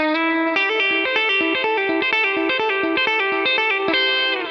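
A song lick played fast on electric guitar: a quick, fluid run of picked notes in a steady stream. Close and bright with light chorus-like shimmer, and no voices.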